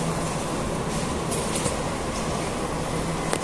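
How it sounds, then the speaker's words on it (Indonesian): A Jakarta MRT train passes near Istora station, a steady rumbling roar of wheels and motors at moderate distance that holds at an even level for the whole stretch. "Oh, kereta dari sana sepertinya."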